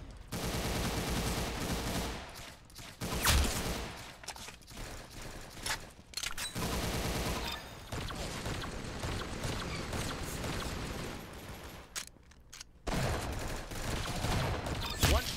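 Rapid bursts of gunfire from the online shooter game Roblox Arsenal, loud and dense, with brief pauses between sustained volleys and no talk over them.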